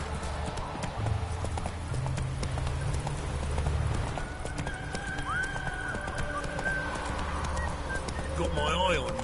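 Hoofbeats of the horse Roach in The Witcher 3 video game, a steady galloping clip-clop close by with a brief whinny, under background game sounds and a speaking voice.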